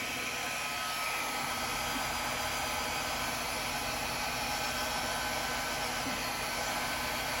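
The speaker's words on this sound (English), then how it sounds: "Grab my blow dryer. I'm using it on cool and low." Handheld blow dryer running on the cool, low setting, giving a steady, even whoosh of airflow that stays constant throughout with no talking.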